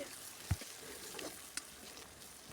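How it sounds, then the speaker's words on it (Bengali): Onions and taro frying in hot oil give a faint, steady sizzle, broken by a couple of soft knocks and scrapes as a utensil stirs them. "তেলটা গরম হয়ে গেছে এবার পেঁয়াজ কচুগুলো দিয়ে ভালোভাবে নেড়ে চেড়ে দিচ্ছি"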